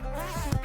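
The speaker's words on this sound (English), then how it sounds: "Looks like a bee found your microphone." A bee buzzes right up against a microphone, a loud close drone that wavers in pitch over a brief moment.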